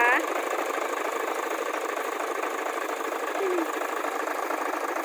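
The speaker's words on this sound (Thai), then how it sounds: "เสียงเครื่องยนต์นะคะ" A Hino Mega truck's J08C diesel engine runs at a steady idle nearby, an even, continuous rumble with a faint mechanical clatter and no change in pace.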